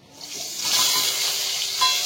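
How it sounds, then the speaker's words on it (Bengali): Boiled potatoes coated with salt and turmeric fry in oil, a bright close sizzle that swells in after a moment and keeps hissing steadily, with light stirring. "আলুটা সেদ্ধ করে রেখে নুন হলুদ মাখিয়ে আলুটা হালকা করে ভেজে নেব"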